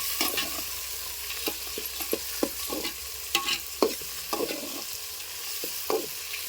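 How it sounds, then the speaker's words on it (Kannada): Tomatoes frying in oil in a pan while making broken-wheat upma, a steady soft sizzle with intermittent scraping and stirring clicks from a spoon, close and alone without talk. "ಈ ಟೊಮೆಟೊ ಹಣ್ಣು ಒಂದು ಸ್ವಲ್ಪ ಫ್ರೈ ಆಗಬೇಕು"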